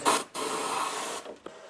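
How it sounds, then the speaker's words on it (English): Compressed air from an air compressor blown into the corners of a car window on a fire-damaged BMW 335i under restoration, loud close hissing bursts: a short blast, a longer sustained one, then a brief final puff. "So I will use compressor to blow out the corners."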